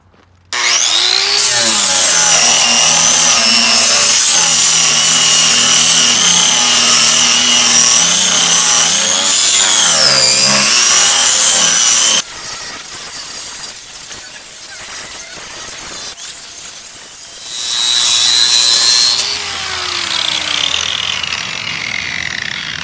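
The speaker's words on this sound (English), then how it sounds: "There's just a little surface rust. I'm gonna try the grinder." Angle grinder scouring light surface rust off a John Deere 42-inch lawn mower deck, a loud continuous whine for about twelve seconds, then it stops and a quieter scraping follows with a brief high whir near the end.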